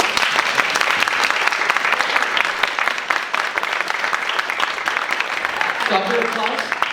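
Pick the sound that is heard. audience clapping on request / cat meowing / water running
audience clapping on request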